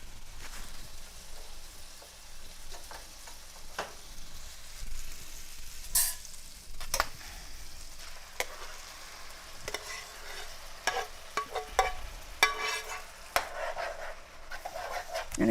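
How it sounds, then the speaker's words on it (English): Chopped vegetables are stirred around in a hot skillet for a bacon quiche filling. There is a steady frying sizzle throughout, with repeated scraping and clattering strokes of the utensil up close. "I'm going to go ahead and put the vegetables over into this skillet so we can mix them up"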